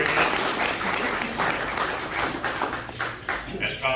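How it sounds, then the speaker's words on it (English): An auction crowd claps for a buyer after a property sale, with uneven, moderately close applause and talk running over the clapping. "Give him a nice round of applause."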